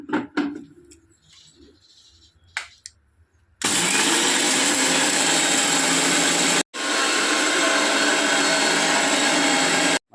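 Mixer grinder crushing masala spices such as cardamom, cloves and cinnamon: after a few quiet clatters, a loud continuous whirring grind runs, cuts out briefly and starts again.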